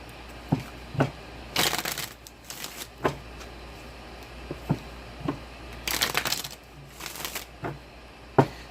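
Tarot cards being shuffled by hand, with repeated sharp riffling bursts and soft taps and snaps in an irregular rhythm, close and clear with no talk.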